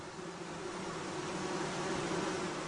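Honey bees around a hive, a dense steady buzzing drone of many insects, close and continuous without pause.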